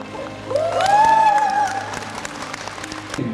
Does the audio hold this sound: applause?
yes